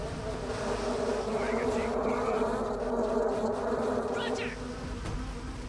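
Bees swarm in the video game Clive Barker's Jericho, a loud, dense, close insect buzz that drones without a break and dips slightly near the end.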